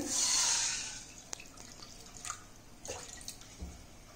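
Water pours briefly with a bright hiss, then a few scattered drips and small clinks in a quiet room, during cooking.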